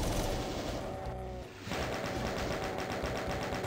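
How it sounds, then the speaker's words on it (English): Rapid automatic chain gun fire in the game Doom II on the Stardate 20X7 map Eastern Sun, a dense, loud, continuous burst with a brief dip midway before the shooting resumes. "I'll use the chain gun."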